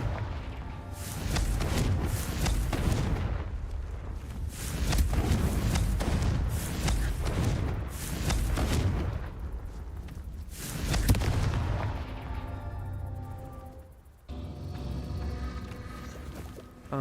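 Repeated Confringo explosive spell blasts in a video game, a series of heavy booming bursts with rumbling tails spread over several seconds, loud and close, with no talk over them.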